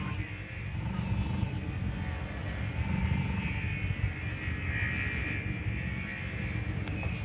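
A spaceship in the game Elite Dangerous flies through a course of checkpoints, its engine a steady, loud droning rumble with a broad whooshing hiss that swells and fades slightly throughout.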